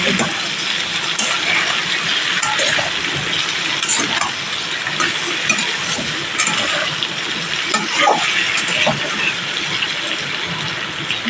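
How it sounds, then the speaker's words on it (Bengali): Pieces of elephant foot yam and potato fry in hot oil, giving a steady, dense sizzle with small crackles and occasional stirring clinks throughout. "ওল আলু ভাজা হয়ে গেছে"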